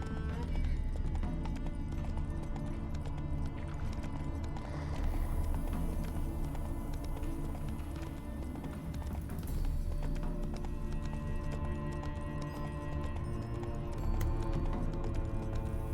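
Roach the horse gallops in The Witcher 3, hooves clip-clopping in a steady run under a continuous bed of game music and ambience, with a brief whinny possible.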